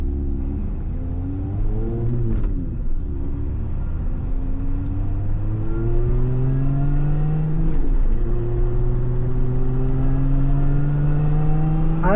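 A Lotus Emira's supercharged engine pulls hard under acceleration, its rising harmonics sweeping upward through repeated gear pulls, with a steady whine riding over the loud, continuous engine note and no one talking.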